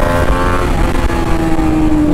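A BMW G310RR motorcycle engine running, a loud, rough, buzzing rumble held steady and close, with the pitch creeping slightly upward.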